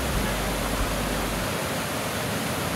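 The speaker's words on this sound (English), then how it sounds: "Say bye-bye to the waterfalls." Rhaeadr Nantcol waterfalls in Wales pour with a dense, steady roar that fills the scene, loud and unbroken throughout, with no one speaking.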